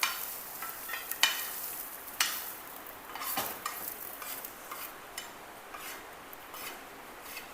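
Onion, coconut and garlic roasting in a pan, soft dry crackle beneath repeated scraping stirs and light clinks of a spoon against the pan, close and fairly quiet.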